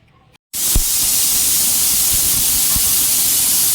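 A pressure cooker in a home kitchen vents steam with a sudden, loud, continuous hiss that starts after a brief quiet moment and holds steady to the end, with no voices.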